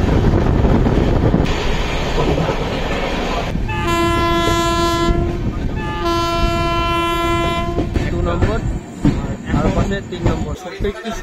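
The Sealdah Humsafar Express runs on its rails near Payradanga, its wheels rumbling and clattering steadily while two long, loud horn blasts sound in succession, with a person speaking near the microphone.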